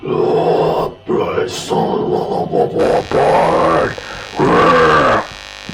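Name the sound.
voice through a guitar overdrive effect pedal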